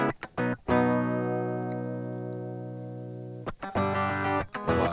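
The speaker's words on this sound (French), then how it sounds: "Donc ça, c'est la piste, la guitare directe que nous venons d'enregistrer," Direct-input electric guitar track just recorded for reamping, unamplified: sustained chords with a couple of short strums at the start, a long ringing chord that slowly decays, then a few more strums at the end, with no voices.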